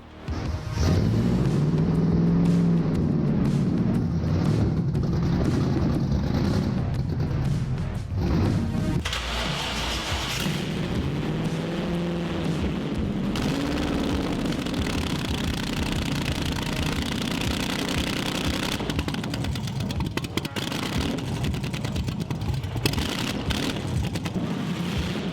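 1965 Factory Five Cobra replica fired up and pulling away, a loud rumbling V8 roaring up with sharp revs and sweeping pitch rises, dropping back to a heavy idle, then surging again, close by.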